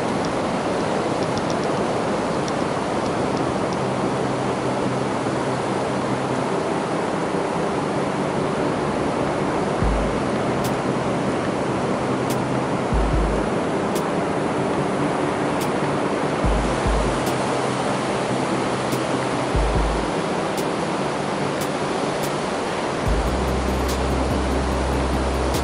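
Ocean waves at Playa Las Flores beach roar in a steady, dense wash of surf that fills the whole stretch, loud and unbroken with occasional low rumbles of wind buffeting underneath and no voices.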